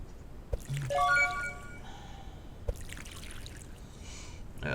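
Watering plants in the building game Common'hood gives a short liquid pour with a few drips and trickles, fairly close and moderate in level, followed by quieter soft game clicks and rustles.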